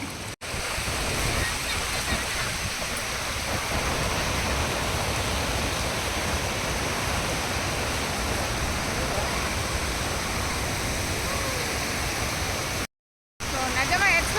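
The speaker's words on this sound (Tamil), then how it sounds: "இந்த டைமில் வந்து செமையாக தண்ணி வருது." Strong rushing water roars steadily and loudly, like a waterfall or fast stream, with a brief drop to silence near the end.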